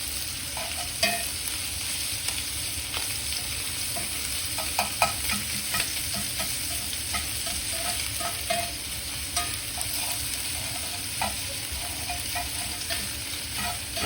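Ground sausage sizzling and frying steadily in a pan, with a spatula repeatedly scraping and breaking up the meat, close and continuous with no talk.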